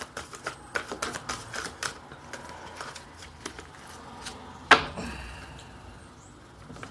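Tarot cards are shuffled by hand in a quiet room, giving a series of soft, quick riffling and tapping clicks followed by one sharper slap and a short rustle.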